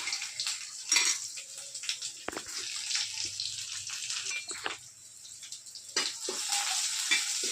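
Oil sizzles and crackles in a pan as mustard seeds and onion fry, bursts of spitting and popping rising and falling over several seconds.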